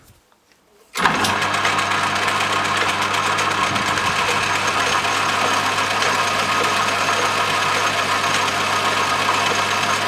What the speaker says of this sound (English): I'm just going to put it in the lathe and just make it straight.